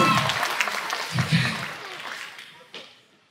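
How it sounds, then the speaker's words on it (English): An audience at a school talent show applauds the finalists, a dense burst of clapping and some cheering that is loudest at first and then tapers away over a few seconds. "Give it up for our finalists."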